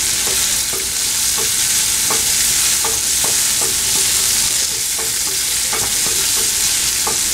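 Vegetables and peas sauté loudly in a hot pan for pulao, a dense continuous sizzle broken by regular spatula scrapes and taps roughly every half second, close and without speech.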